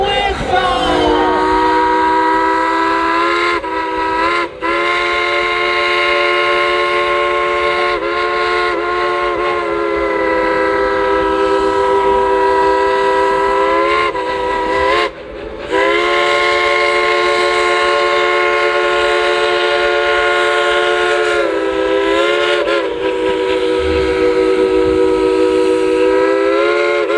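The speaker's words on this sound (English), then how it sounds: "On the count of three, let's tell them to blow the whistle." The Dollywood Express steam train in Pigeon Forge blows its whistle in long, loud, multi-tone blasts with short gaps, sustained for nearly half a minute near the train.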